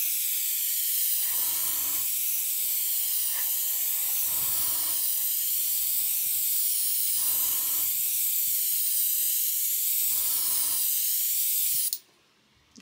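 An aerosol can sprays metallic paint over LP paint on a plastic scale model in long, loud, steady hissing bursts, with brief pauses between passes, until it cuts off near the end.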